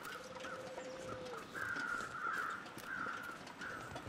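Crows cawing overhead in the video game The Long Dark, fairly faint and distant, a few harsh caws repeating over quiet wind-like ambience with no speech.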